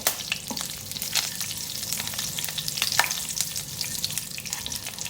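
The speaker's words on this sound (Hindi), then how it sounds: "1 टीस्पून ज़ीरा डाल रही हूँ इसमें। फ्राई करेंगे थोड़ा सा इसको।" Cumin seeds frying in hot oil in a kadai, a steady close crackling sizzle with scattered sharper pops, no voices.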